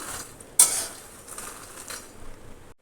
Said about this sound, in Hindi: पहले बिना घी के हमने पहला बैच डाल दिया है और चलाते हुए हाई टू मीडियम फ्लेम पर इसको भूनना है।